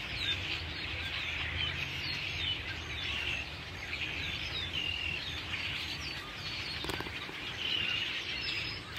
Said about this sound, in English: the cacophony of probably hundreds of birds here